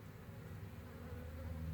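Bees swarm around a hive in a tree, a dense continuous buzzing hum heard at close range, steady and unbroken with no voices.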